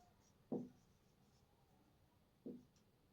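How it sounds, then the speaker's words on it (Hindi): Two short, faint strokes are written on a board during a maths lecture, about two seconds apart, in a quiet room with no speech. "इसको लिख लेते हैं हम"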